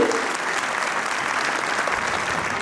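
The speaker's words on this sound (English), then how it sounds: "give them a huge round of applause" Audience applause at a stage event, a steady dense clapping from a sizable crowd sustained evenly throughout the short stretch with no pauses.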